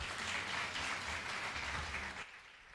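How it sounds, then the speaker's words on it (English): A lecture-hall audience breaks into steady applause for a professor taking the stage, dense clapping sustained for over two seconds before tapering off near the end. "let's welcome Professor Dr. Suresh Govind on stage with big round of applause"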